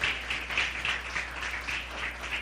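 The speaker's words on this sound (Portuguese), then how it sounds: "dê mais uma salva de palmas para o Senhor" Congregation clapping in a Portuguese-language church service, a moderate, somewhat rhythmic round of applause with regular pulses, fairly distant and even, without speech over it.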